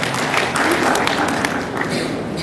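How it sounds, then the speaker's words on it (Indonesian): A church congregation clapping in response to a preacher, a loud, busy burst of many hands with scattered sharper taps, sustained evenly through the short stretch. "Berikan tepuk tangan ya"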